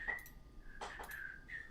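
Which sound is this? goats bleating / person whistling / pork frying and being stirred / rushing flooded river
person whistling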